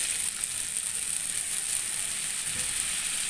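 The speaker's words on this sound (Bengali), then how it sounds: "পেঁয়াজ মরিচগুলি ভাজা হয়ে আসছে, হালকা বাদামি কালার হয়ে গেল।" Chopped onions and chillies fry in a pan, giving a steady, close sizzle of hot oil that holds at an even level throughout, with a soft bump of stirring near the end.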